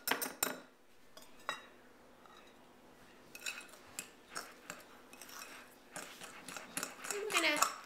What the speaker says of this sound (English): I'm going to move to a spoon now to blend so that we get an even distribution